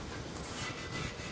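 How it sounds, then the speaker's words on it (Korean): Sandpaper rubs rust off the muffler of a 2002 Hyundai Avante XD, a faint continuous scratchy rasping with steady back-and-forth strokes and no talking. "또 사포질하고,"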